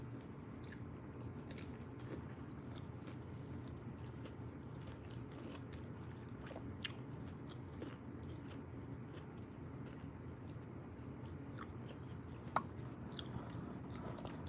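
A person chews food right beside the microphone: steady, close, moist mouth sounds and soft crunches run throughout, with a few sharp clicks and no talking.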